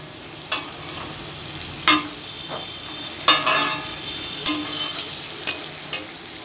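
Potatoes sauté in a pan under a soft, steady sizzle, broken by about six distinct scraping strokes of a spatula at roughly one-second intervals, close and fairly loud.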